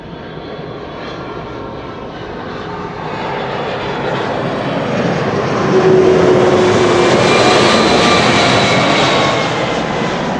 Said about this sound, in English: Here we have DHL A300-600 arrival from Madrid